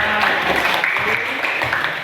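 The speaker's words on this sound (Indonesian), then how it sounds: "tepuk tangan untuk kelompok 3" A classroom of students applauds a presenting discussion group, a brief dense patter of claps mixed with voices.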